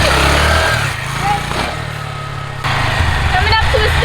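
A Honda Grom motorcycle engine revs and drops in pitch as the rider brings it up into a wheelie, loud and close, with a voice talking over the engine.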